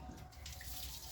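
Tap water runs steadily into a sink during washing up in a home kitchen, a continuous close splashing hiss with no talk over it.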